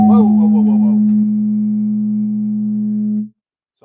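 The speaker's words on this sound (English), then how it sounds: "Reverb. I hit the button there. Obviously, you heard that." A reverb effect triggered by a button on a live online talk show: a voice fragment smears into a loud, sustained ringing tail that holds steadily for about three seconds before cutting off abruptly.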